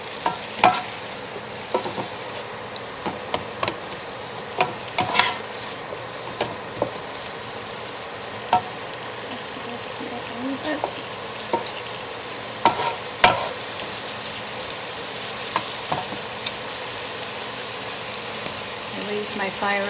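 Pork and vegetables stir-fried with soy sauce and sugar sizzle loudly and steadily in a hot pan, with repeated scraping clacks of a utensil stirring throughout.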